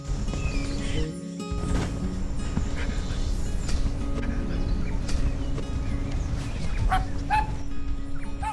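Several dogs bark and yip in a loose, continuous chorus close by, following people along a mountain road in North Sikkim between Katao and Lachung, with steady outdoor background noise.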